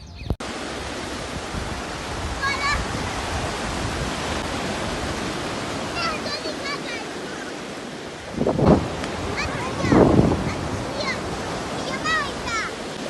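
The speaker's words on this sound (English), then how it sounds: "Next is off to the Berbera beach for a quick dip for the kids." Waves at Berbera beach make a steady, rushing roar of surf, with two louder surges breaking partway through and faint chirps above.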